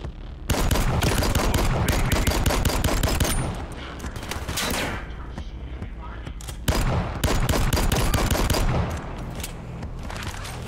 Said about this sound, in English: I don't like people trying to shoot me